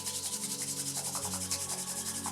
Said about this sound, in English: you might find it helpful to rub your hands for a little bit of warmth